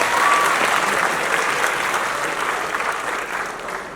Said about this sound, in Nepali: हामी सबैले सम्माननीय प्रधानमन्त्री केपी शर्मा ओलीलाई ताली बजाएर अभिनन्दन गरौँ